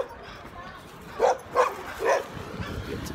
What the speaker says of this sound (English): That dog, that's a big dog.